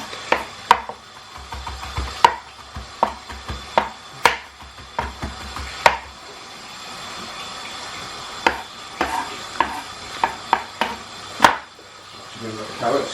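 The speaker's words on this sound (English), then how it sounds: "I want that parsley really finely chopped." A knife chops parsley finely on a board in a series of sharp, irregular taps, some quick runs and some isolated strikes, close and fairly loud against a quiet kitchen background.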